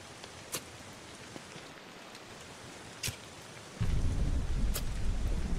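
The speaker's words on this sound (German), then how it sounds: "Gewitter." Heavy rain pours steadily in Don't Starve: Hamlet as a thunderstorm builds, with sharp distant thunder cracks every couple of seconds and a deep rumbling roll surging in loud near the end.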